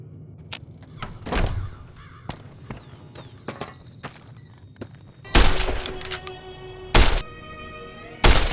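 In the Fallout New Vegas game, shots ring out at sarsaparilla bottles behind the saloon in Primm. Three loud, sharp gunshot bursts come after quieter knocks and clatter, each blast ringing briefly.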